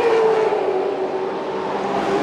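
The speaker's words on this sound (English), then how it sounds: "there's the Audi going through" An Audi race car passing on the Zandvoort circuit during a 12-hour endurance race, a steady loud engine drone with a sustained tone and no audible talk.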